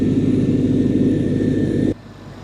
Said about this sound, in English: both of the fans should be spinning now